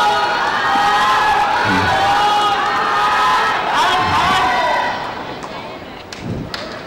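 Fans cheering at a badminton final, a loud, continuous crowd roar with shouts and whoops, a few thuds, and an announcer talking over it as the noise eases toward the end.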